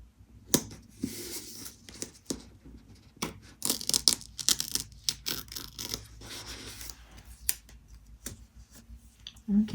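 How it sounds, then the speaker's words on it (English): Washi tape being torn off a roll for a Happy Planner spread, a series of short, close, dry rips and ticks separated by brief pauses, with no talking. "So let's put a little bit of washi tape with it as well. Just going to tear some off."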